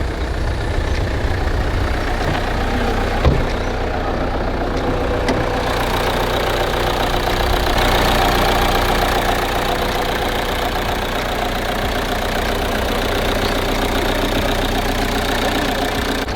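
A car engine idles steadily at close range, a continuous loud rumble with a slight knocking texture, with no talk over it.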